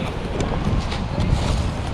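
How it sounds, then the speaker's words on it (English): Wind buffets the microphone in a loud, low rumble with gusty bursts and no speech, on Iceland's south coast. "It's been so windy"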